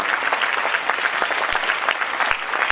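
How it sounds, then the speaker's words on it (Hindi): Loud, close applause fills an annual function hall as the audience claps for two people standing up, dense and continuous with occasional sharp individual claps. "सब लोग आपके लिए तालियां बजाएंगे"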